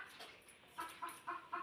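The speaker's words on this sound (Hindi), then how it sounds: "यहाँ पे मुर्गी बोल रही कुकड़ू कू," A chicken clucking outdoors, a quick run of four or five short clucks heard at a moderate distance, no talking over them.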